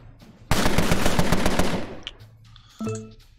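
Gunfire in the Empire of Sin video game: a loud, close burst of rapid automatic shots lasting about a second and a half, fading into a ringing tail, followed by a short electronic tone.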